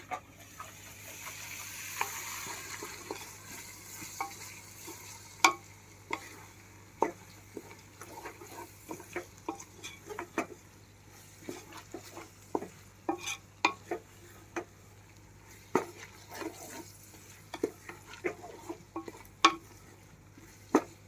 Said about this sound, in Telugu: ఒకసారి అంతా మిక్స్ చేసేద్దాం